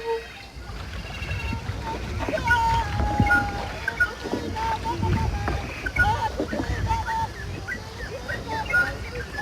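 Wooden canoes paddled along a river by a group of forest warriors, with steady splashing and water movement under overlapping voices and chanting.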